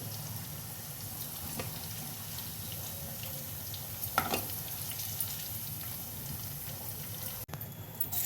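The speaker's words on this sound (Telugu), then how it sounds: "ఆయిల్లో చక్కగా వేగుతుంది కదా దొండకాయ. ఒకసారి అటు ఇటు తిప్పుకుంటూ వేయించేసుకోవాలి. క్రిస్పీగా వేయించుకోవాలి." Pieces of ivy gourd (dondakaya) frying crisply in hot oil give a steady, moderate sizzle throughout, with a brief clatter as they are stirred and turned and a short sharp knock near the end.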